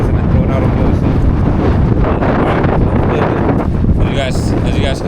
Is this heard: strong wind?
yes